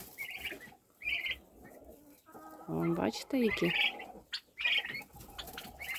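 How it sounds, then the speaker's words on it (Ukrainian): Turkey poults give short bursts of high peeping calls, with a flurry of wing flapping in the middle, heard close while a person speaks briefly. "О, індичка почула індичат, чуєте?"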